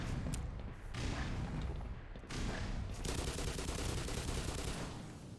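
Grenade blasts and bursts of gunfire in the game Black Mesa, several sharp booms and rattling shots packed into a loud, continuous, echoing firefight.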